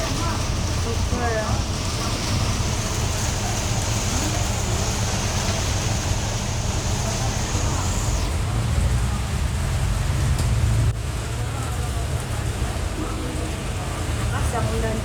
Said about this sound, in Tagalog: Lakas ang ulan dito sa Malaysia.